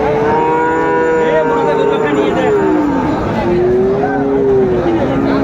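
A young Friesian or crossbred bull calf moos loudly in long, wavering calls, one after another, over a busy background of murmuring crowd noise at a cattle market in Raniganj.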